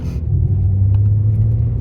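Low, steady engine rumble from a 2022 BMW M3 xDrive Competition as it pulls away, a smooth continuous drone without a sharp rev, heard close up.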